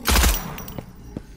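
A video game explosion bursts loudly and close at the start, followed by scattered sharp cracks and thuds as it fades out.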